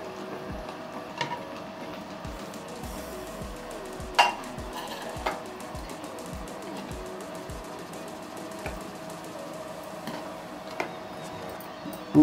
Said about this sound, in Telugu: పన్నీర్ వేసుకుందాం.